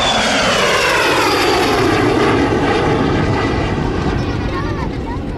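A de Havilland Vampire jet passes during plane spotting, a loud sustained engine roar with a slowly shifting pitch that holds for the whole stretch and fades a little at the end.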